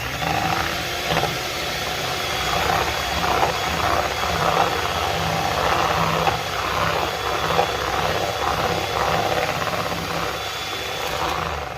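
An electric hand beater runs at high speed through sugar for brownie batter, a continuous loud whirring drone with a steady motor hum and slight rhythmic wobble as the bowl is worked.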